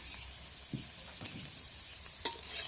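Fried soybean chunks stirred into a cooked spice masala in a pan: a soft sizzle under a few scraping strokes and one sharp clink of a utensil on metal, nearby.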